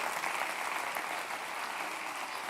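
Steady audience applause from a church congregation, dense and continuous clapping throughout with no pauses, fairly close and moderately loud.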